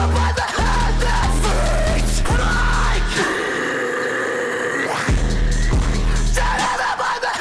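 A track from an album bursts with harsh, raspy screams over heavy, pounding bass-laden music, loud and continuous with brief breaks between phrases.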